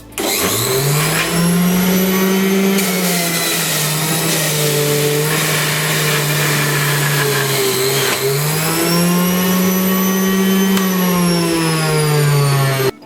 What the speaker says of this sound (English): So first off, in my recipe, I'm going to juice the cucumber first.